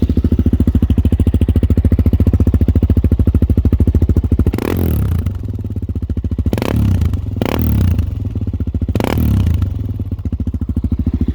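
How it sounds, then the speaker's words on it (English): A Suzuki Eiger 400's exhaust chugs at a steady, loud idle, then is revved four times in short bursts, each rising sharply and settling back to a rapid, even idle close by. "I'll give you a few exhaust sounds here."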